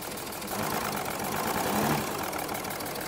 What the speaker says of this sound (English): I don't know what's leaking, one of the injectors or something.